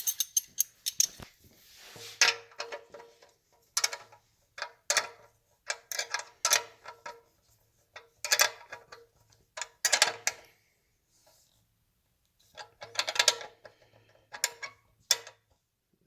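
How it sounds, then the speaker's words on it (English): Wrench ratcheting an acorn nut tight on a 1940 Harley-Davidson UH during restoration, heard as close, intermittent bursts of metallic clicking separated by short pauses. "we're just going to tighten it down"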